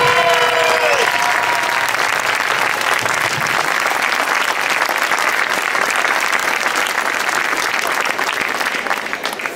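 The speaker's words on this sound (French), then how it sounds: "c'est les petites mains, on peut les applaudir" A crowd applauds the behind-the-scenes helpers at a festive village celebration, sustained dense clapping that holds at a steady level for the whole stretch, with faint brief cheering near the start.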